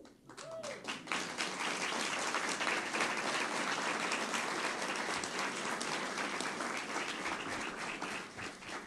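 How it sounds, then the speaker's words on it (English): Dense applause from a room full of people fills the air at a conference event, sustained and even throughout with a few louder claps scattered across it, welcoming athletes as the university joins the WAC. "Round of applause."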